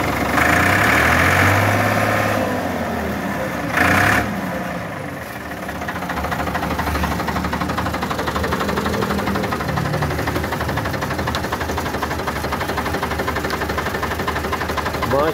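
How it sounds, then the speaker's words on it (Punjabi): A 1980 Ford 4600 tractor sits idling nearby, its diesel engine holding a steady, even knocking rhythm that stays loud throughout, with a brief louder burst near the start. "ਟਰੈਕਟਰ ਦੀ ਤੁਹਾਨੂੰ ਆਵਾਜ਼ ਹੀ ਦੱਸ ਸੀ ਕਿ ਟਰੈਕਟਰ ਕਿਵੇਂ ਦਾ।"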